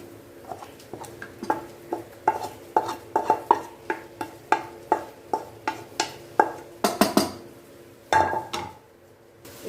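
Sago curd rice stirred in a bowl with a spoon: a steady run of sharp, evenly spaced clinks and scrapes against the bowl, close and clear, with a short pause near the end.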